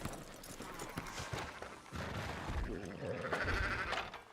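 Sheep bleat amid a busy, noisy Red Dead Redemption 2 game soundscape, with clattering and thumping effects layered around the calls.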